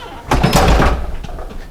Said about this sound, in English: I think I might close this door.